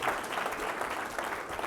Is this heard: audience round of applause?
yes